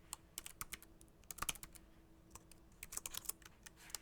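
Computer keyboard typing, quiet and close, with irregular bursts of sharp key clicks separated by short pauses, while no one speaks.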